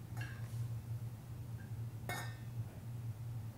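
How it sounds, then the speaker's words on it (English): Sweet potatoes set into a stainless steel 4-quart stock pot, making two brief metallic clinks a couple of seconds apart over a quiet background hum. "let's pierce them with a fork and place them in your 360 4-quart stock pot"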